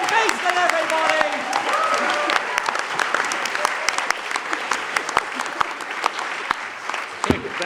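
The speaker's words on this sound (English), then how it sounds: "Great round of applause!" Audience applause and some cheering at a science comedy show for a performer, loud dense clapping that thins into scattered claps toward the end, with a voice calling out briefly near the start.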